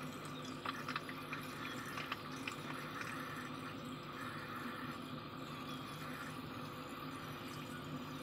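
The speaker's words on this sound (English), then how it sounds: "we're going to fill up the toilet bowl a little bit with some cold water" Cold water running into an RV toilet bowl: a continuous, fairly faint stream of flowing and splashing water with scattered drips, and no voices.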